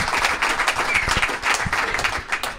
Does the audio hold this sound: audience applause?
yes